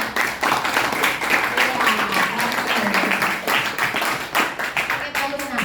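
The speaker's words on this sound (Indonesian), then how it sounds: "tepuk tangan sekali lagi" A classroom of students clapping hands during a school lesson, brisk uneven claps from a group, fairly close and loud, with some voices mixed in.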